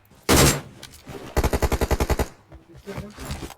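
Rapid burst of about ten DP-28 machine gun shots in PUBG Mobile, loud and evenly spaced, preceded by a single heavy shot and followed by someone talking.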